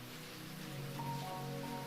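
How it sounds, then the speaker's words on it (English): Soft, steady rain plays as a faint background wash of hiss, with a gentle continuous patter and no distinct drops standing out. "we're going to play the sound of rain throughout in the background"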